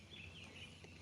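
Birds calling near an island on a river, thin high chirps that recur faintly over a steady low background of water and ambient noise, with no talking.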